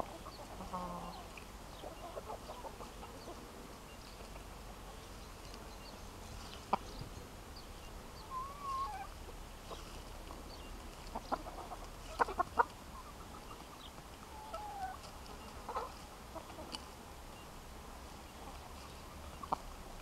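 Chickens in a farmyard in the Algarve, Portugal, cluck sporadically through a quiet stretch, with scattered short calls and occasional louder bursts against low ambient noise.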